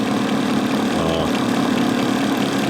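A car engine idles steadily while a Sun SDT distributor tester runs, held near 270 rpm, giving a continuous low rumble with an even, unbroken drone throughout.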